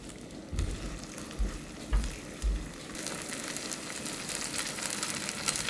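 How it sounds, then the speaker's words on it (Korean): Grated potato pancake batter goes into hot oil in a frying pan and sizzles steadily and close, with a few soft thumps and scrapes as it is spread, and the crackle grows brighter. "팬이 살짝 예열되면 이 감자를 넣어주세요."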